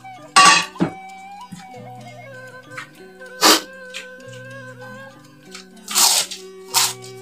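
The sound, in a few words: biting and chewing spicy eel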